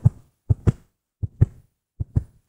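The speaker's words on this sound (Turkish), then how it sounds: "Kalp atışı kıyafetle yana çeviriyoruz." A heartbeat sound effect made by snapping a piece of clothing taut gives three soft, low double thumps, lub-dub pairs spaced evenly and heard close and alone.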